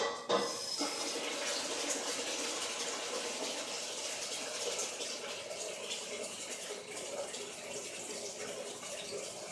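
Tap water pouring steadily into a pot, a continuous bright gushing hiss that runs for several seconds with a small clunk at the start.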